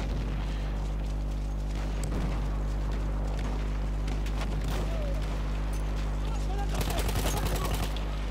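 Scattered rifle and machine-gun fire from a Battlefield 1 match on Verdun Heights. Some reports sound near and others far, over a steady low battlefield rumble, and a sharper flurry comes near the end.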